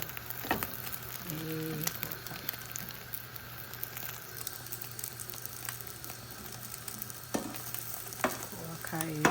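Eggs frying in a pan with a steady, close sizzle and crackle that runs throughout, with a few brief scraping stirs and no talking.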